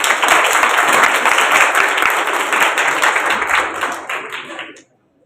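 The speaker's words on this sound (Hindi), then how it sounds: "एक बार मैं चाहूंगा कि मेरे बच्चे एक बार मैम के लिए ताली बजाएं।" Schoolchildren at a school science festival give a teacher a loud burst of clapping, dense and close for several seconds before it cuts off sharply into silence.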